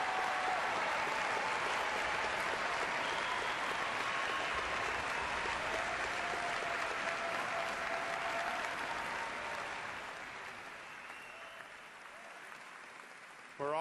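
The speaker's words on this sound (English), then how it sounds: "let's have a round of applause for the 2012 spring class" A large crowd at a university commencement claps continuously for several seconds, the applause thinning and fading toward the end.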